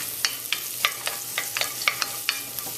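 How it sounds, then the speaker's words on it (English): Scotch bonnet peppers sweating over medium heat in a pan, stirred with a utensil that scrapes and taps the pan in quick, irregular strokes over a soft sizzle. "I'm just going to give that a quick stir and allow that to sweat down for a couple of minutes on a medium heat"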